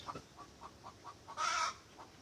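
Chickens on a rain-flooded farm give soft, regularly spaced clucks, then one louder, brighter squawk rises briefly above them before the quiet clucking resumes.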